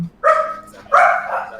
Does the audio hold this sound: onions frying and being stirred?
no